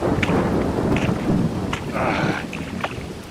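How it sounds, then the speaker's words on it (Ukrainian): Thunder rumbles over steady rain in a dramatized stormy night scene, with low rolling booms and brighter crackling bursts over continuous rainfall, close and fairly loud, with no voices. "Та що ж це таке? Клятий дощ."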